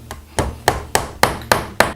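Hammer blows driving nails into wooden boards for a rustic fall-themed sign, six sharp, evenly spaced strikes, close and loud with no talking.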